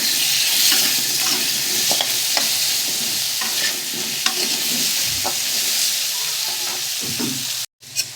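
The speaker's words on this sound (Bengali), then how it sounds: "ওলটা আর আলুটাকে আমি ভালো করে ভেজে নিয়েছি" Chunks of elephant foot yam and potato frying in oil with salt and turmeric: a steady close sizzle broken by scraping stirs of the spatula in the pan, cutting out briefly near the end.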